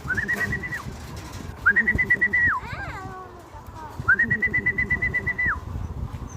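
Racing pigeons at a loft in Mabini, Batangas, during a three-lap race toss, with close, pulsing flutter and cooing under repeated steady high whistling tones.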